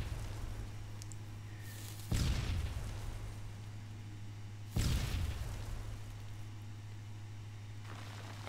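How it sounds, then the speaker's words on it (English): Two heavy booming explosions in Minecraft: Story Mode hit a few seconds apart over a steady low hum, each decaying into a rumbling tail. "Those are some delayed explosions."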